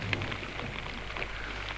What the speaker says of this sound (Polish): minie deszcz